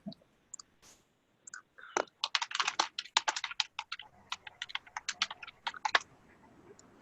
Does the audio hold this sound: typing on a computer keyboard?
yes